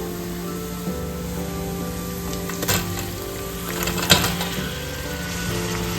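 Chopped onions with slit chilies, ginger, garlic and curry leaves sizzle steadily in a pan while being stir-fried, a constant crackling hiss with a couple of brief louder scrapes from stirring.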